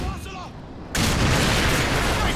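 RPG fire in the video game Call of Duty 4: a sudden loud blast erupts after a quieter moment with voices, then a dense, roaring wash of explosion and gunfire sustains to the end.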